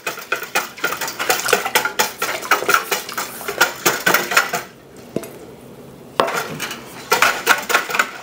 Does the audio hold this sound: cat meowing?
no